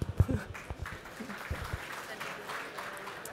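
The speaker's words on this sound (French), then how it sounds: "Vous pouvez les applaudir" Scattered audience applause in a conference hall, a few sharp nearby claps at the start thinning into faint, sparse clapping with a voice speaking quietly over it.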